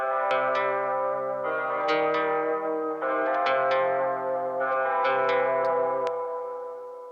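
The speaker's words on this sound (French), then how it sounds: "Ça donne cette impression d'effet reverse, que c'est la reverb ou le délai qui arrive avant la note." Guitar notes played through an analogue delay with reverb fully up and the mix set fully wet, each short phrase swelling into dense echoing repeats so the tail seems to arrive before the note, a sustained reverse-like wash throughout.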